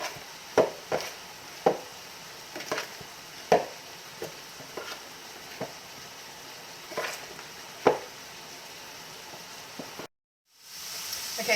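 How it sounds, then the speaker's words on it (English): A hard spoon mixing clumpy ricotta with other cheeses in a bowl for crock pot lasagna, giving a series of distinct scraping and clacking strokes at an irregular pace, close up, with a brief cut to silence near the end. "you just want to get all this mixed together"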